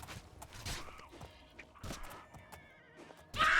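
A battle horse in the Oblivion video game whinnies several times at close range, the neighs broken up by combat thumps and footfall sounds, with a sharp loud burst right at the end.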